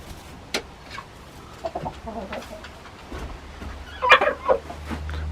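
Hens in a homestead coop let out scattered clucks and short squawks, with one louder burst of clucking near the end, over low background noise.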